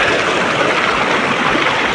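A forest stream flows on a hillside, giving a steady, close rush of broadband water noise with no pauses and no voices over it.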